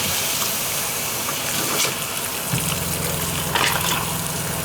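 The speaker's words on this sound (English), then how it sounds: "you may hear your pump running" The water pump of a 2023 Alliance Valor 31T13 RV runs, giving a steady liquid rush and hum, with a low motor drone joining partway through and holding to the end.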